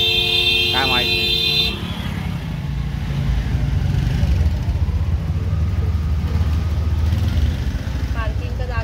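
Traffic jam with cars and motorcycles during the Devgad Jallosh 2024 event: engines rumble continuously nearby, with a few short horn toots early on and a voice talking over the steady road noise.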